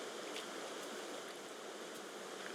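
Water flows steadily in the Minecraft video game, a soft continuous rushing wash with no talk over it.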